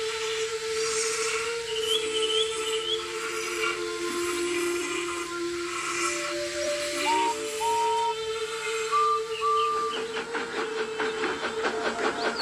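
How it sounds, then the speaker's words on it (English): Steam locomotive whistles sound in a foggy setting, with long sustained tones that shift pitch and overlap, then fade into a rapid chugging hiss near the end. "So that's who the whistle was from. It was Henry and Edward"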